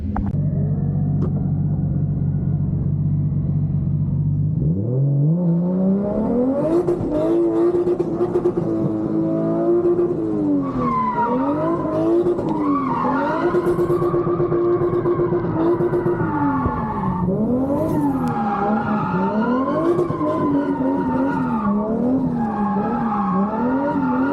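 Nissan S15 drift car in Poland revving hard, its engine pitch climbing and dipping repeatedly as tires skid and squeal, loud and continuous with no talking.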